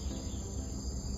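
Continuous buzzing drone of a cicada in a sunny front yard garden, steady and moderately loud for the whole short stretch, with nothing else heard.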